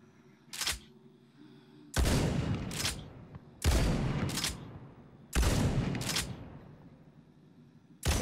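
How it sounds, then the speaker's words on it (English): A lever action shotgun in The Walking Dead Onslaught VR game fires several loud, sharp blasts spaced a second or two apart, each followed by a short decaying tail, with quieter mechanical clicks between shots. "This lever action shotgun packs a punch."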